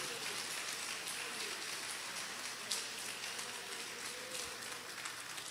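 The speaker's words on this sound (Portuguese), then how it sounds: "dá aquela melhor salva de palmas e o melhor glória a Deus que você pode dar para Jesus" Congregational applause in a church service for Jesus, a soft, even hiss of many hands clapping at a distance that continues without pause, sounding almost like steady rain.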